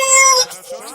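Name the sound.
cat meowing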